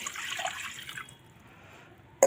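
A potful of water splashes into a dhokla steamer for about a second, then a faint trickle fades and a sharp metallic clunk lands at the very end.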